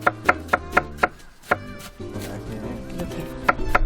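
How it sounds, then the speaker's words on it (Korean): A knife slices napa cabbage into strips on a board for Jeolla-style kimchi, a run of regular crisp chops followed by a looser stretch of cutting and rustling, near and distinct with a voice underneath. "저는 그냥 이렇게 심지 날 때까지 썰어서 채 썰어 버리거든요"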